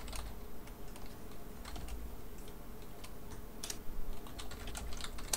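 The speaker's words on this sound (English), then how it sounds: "Alright, Fia, go ahead and start typing what you want to do" Computer keyboard typing during an online tabletop game session, with a steady patter of light, quick keystrokes in irregular clusters, close and moderately quiet.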